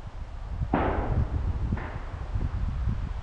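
Gunshots from hunters firing in woodland along a hiking trail: two distant sharp reports about a second apart, the first louder, over faint outdoor background noise.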